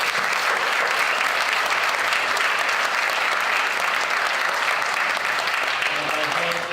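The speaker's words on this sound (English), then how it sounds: "So a little applause, please." Sustained audience applause for the event staff at an eldercare speaker series, dense steady clapping from a large crowd held at an even level throughout.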